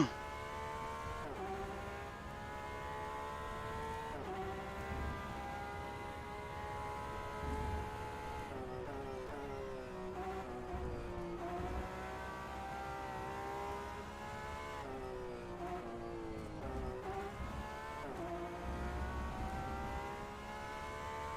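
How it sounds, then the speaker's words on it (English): The engine of a Porsche 991 RSR GTE race car in rFactor 2 howls steadily at high revs, rising through gears with brief drops at each shift, loud and continuous throughout. "I'm driving the Porsche 991 RSR GTE."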